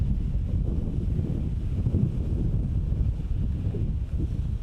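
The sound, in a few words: wind blowing outdoors while metal detecting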